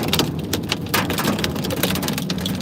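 Rain and hail pelting a vehicle during a storm chase in southwest Kansas, a dense, continuous loud clatter of hard hits with sharper impacts scattered throughout, no talking.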